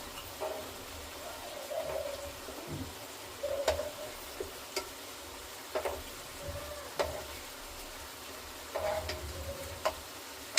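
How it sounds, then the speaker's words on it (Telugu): Afghani chicken gravy fries in a pan with a soft steady sizzle, punctuated by irregular clicks and taps of stirring. "టోటల్గా ఈ వాటర్ అంతా అబ్జర్వ్ అయ్యే వరకు దీన్ని ఫ్రై చేసుకుంటూ ఉండాలి"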